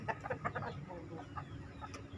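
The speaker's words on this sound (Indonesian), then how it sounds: "Sepasang pamacek dengan babon." A breeding pair of chickens, a rooster and a hen, on a poultry farm, giving a few quick clucks near the start, then softer, faint murmuring in a quiet pen.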